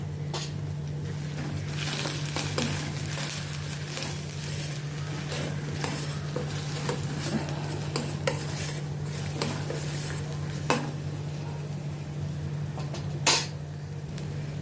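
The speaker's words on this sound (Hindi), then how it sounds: "इसको भी अनियन के साथ मैं सौटे करती हूँ।" Ginger garlic paste sautéing with onion in a pan for a spinach dish, a steady soft sizzle under repeated spoon scrapes and stirring clinks against the pan, close up.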